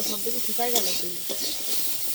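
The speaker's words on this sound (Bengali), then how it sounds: "এটাকে একটু নুন হলুদ দিয়ে ভালো করে ভাজা করে নেবো" Vegetables frying in oil with garlic, salt and turmeric, a bright close sizzle with rhythmic stirring scrapes of a spatula, briefly and without speech.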